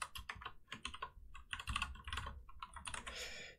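Rapid, uneven clatter of keys on a computer keyboard as someone types out Python code, close and steady with no voices.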